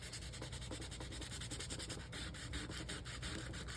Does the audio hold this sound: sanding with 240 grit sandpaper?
yes